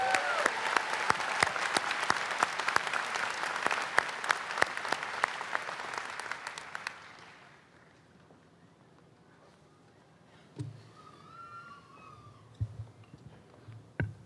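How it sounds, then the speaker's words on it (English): Crowd applause at a 2025 high school commencement ceremony, loud dense clapping for about seven seconds that fades away, followed by a quiet hall with a few scattered sounds and light movement. "one more big round of applause for this year's 2025 Decum Decorii"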